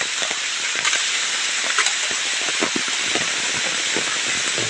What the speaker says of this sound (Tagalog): tumutulo po lalo lumalakas ang ulan